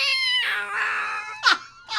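A cat lets out a loud, strained screech after an alarm clock falls on it, a few wailing cries close by with a short sharp burst between them.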